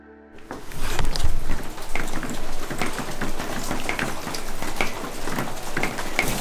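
Rain beginning to fall at a cabin in Dorrington, California, rising from near silence into a steady patter of drops on surfaces, with scattered sharper hits and no talking.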